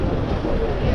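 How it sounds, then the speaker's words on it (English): Wind buffets the microphone in a continuous low roar, broadband and steady for the full second, with no clear voices, on a busy late-afternoon street in Pretoria's city centre. "It's getting windy."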